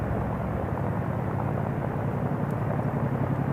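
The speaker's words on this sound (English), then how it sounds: "Chinook helicopters are a versatile component of airspace power" Chinook helicopter flying, producing a steady, dense rotor and engine roar that holds constant throughout at moderate loudness, with no voices present.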